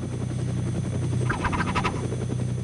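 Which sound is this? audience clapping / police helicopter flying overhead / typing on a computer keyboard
police helicopter flying overhead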